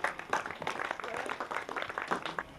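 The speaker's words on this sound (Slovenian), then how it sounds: "En aplavz za najboljše posameznice do 13 let." Audience at a Slovenian badminton federation awards day applauds the best under-13 singles players, a dense, steady patter of many hands clapping in a hall, moderately distant and sustained throughout.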